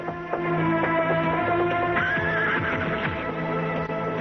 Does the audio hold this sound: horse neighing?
yes